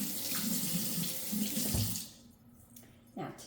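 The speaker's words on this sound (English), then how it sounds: "wash my hands again" A kitchen tap runs steadily while hands are washed in the sink, a close, hissing stream that cuts off partway through, followed by a few faint drips and small movements.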